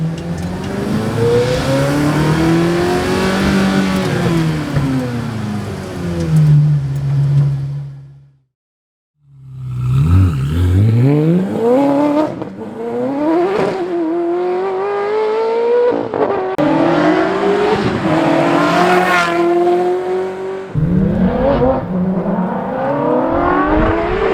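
A straight-piped Ferrari F430 V8 revs hard under load, its loud raspy tone climbing and falling in repeated pulls, with one brief drop to near silence midway before the engine roars back up through rising sweeps.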